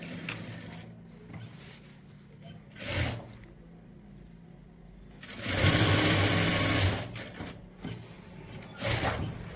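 A sewing machine stitching a pocket on loose-fitting trousers runs in close, loud mechanical bursts of rapid stitching separated by short quiet pauses.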